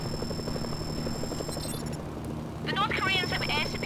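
Helicopter rotor thumping steadily throughout in Mercenaries: Playground of Destruction, mixed with game sound effects and a person talking over it.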